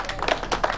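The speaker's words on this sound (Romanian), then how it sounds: "Aplauze!" Short burst of audience applause at a horse competition in Săsar, Maramureș, a dense, even patter of many hands clapping.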